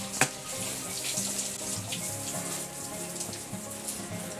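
Clean, drinkable water runs steadily from a tap or outlet in a home water system, making a continuous splashing rush with no voices.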